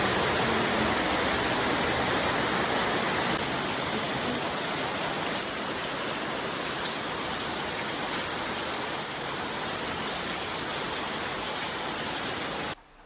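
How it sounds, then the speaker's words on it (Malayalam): Heavy rain pours outside a home, a dense, steady hiss of downpour that stays loud and continuous throughout, with no voices over it. "ഇന്ന് നല്ല മഴയാണ് കേട്ടോ പുറത്ത്"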